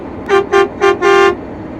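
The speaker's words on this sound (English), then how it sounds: "Kids pumping their arms, had to honk the horn." A truck horn honks four times in quick succession, loud and close, the last blast held slightly longer than the first three short toots.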